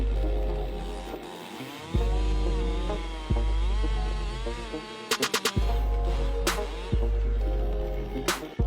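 A chainsaw cuts down a big tree, its engine droning steadily and surging in pitch as throttle and load change, with a few sharp revving pulses along the way.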